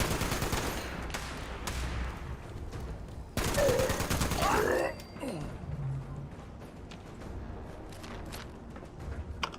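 A gun fires in the video game Fallout 76, with scattered shots and then a loud rapid burst of gunfire lasting over a second, as a voice talks throughout.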